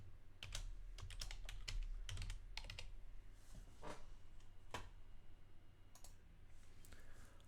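Typing on a computer keyboard while writing JavaScript code: quiet, irregular clusters of key clicks with short pauses between bursts, no talking.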